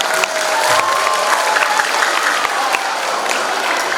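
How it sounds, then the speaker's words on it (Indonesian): A school audience at a student council election event bursts into loud sustained applause, dense clapping from a large crowd filling the space evenly with faint cheering mixed in. "Tepuk tangan untuk semuanya."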